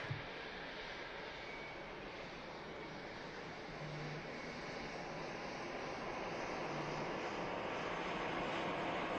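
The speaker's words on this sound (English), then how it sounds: "Turkish is continuing the taxi, very, very slow taxi though for the Turkish." A Turkish Airlines airliner taxis very slowly at Manchester Airport, a low, steady engine rumble and hiss that stays faint and even, gradually swelling slightly toward the end.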